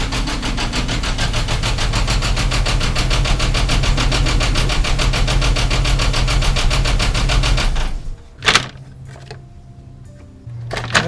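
A Volkswagen Jetta VR6 engine idles steadily after a cold start, a loud close rumble with a fine rapid ticking texture, cutting off abruptly near the end and followed by a couple of sharp knocks and quieter background.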